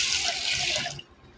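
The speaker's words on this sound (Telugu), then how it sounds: "దీంట్లో వాటర్ పోసేసుకోవాలి" Water runs from a tap into a pot of toor dal for about a second, a close, bright, splashing pour that stops abruptly and leaves only faint room tone.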